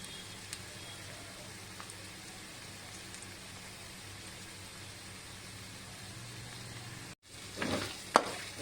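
Garlic and spices frying in a pan for Kerala beef pickle, a soft, steady sizzle running quietly in the background, ending in a short silence and then a few louder scraping and stirring sounds.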